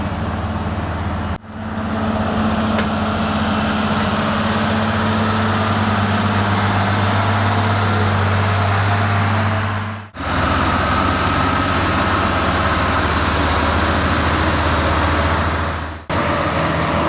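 A heavy truck engine labours uphill under load, a deep, steady drone with strong low hum, broken by three brief cuts in the sound, loud and close with no talking.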